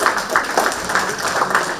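An audience applauding at a plenary session on climate action, a close, fairly loud stretch of clapping with a loose, uneven rhythm.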